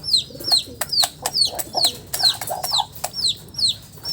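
A small chicken peeping repeatedly, a rapid series of thin, high descending chirps in quick succession, fairly close, with faint background noise.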